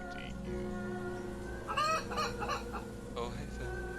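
Chicken clucking in a low-budget horror film, a burst of agitated squawks and clucks in the middle with calmer sounds before and after, close and fairly loud.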